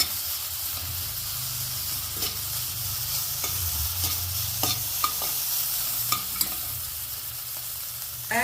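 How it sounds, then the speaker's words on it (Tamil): Onions sauté in a pan for a potato side dish, a continuous sizzle broken by repeated sharp scrapes and clacks of a stirring spoon, close and fairly loud, with no voices. "இந்த வெங்காயம் வதங்க ஆரம்பிச்சிருச்சு."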